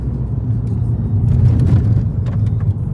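A VW Scirocco's engine rumbles steadily from inside the car on a night drive, with low road noise and occasional faint rattles.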